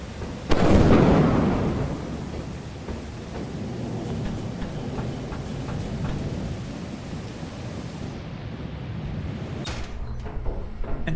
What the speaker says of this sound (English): Remember that it is stormy.